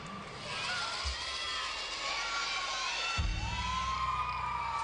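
Gymnastics teammates cheering and screaming at a Big Ten women's championship meet, a loud sustained wall of high-pitched shouts and whoops from a crowd of young women across the whole clip.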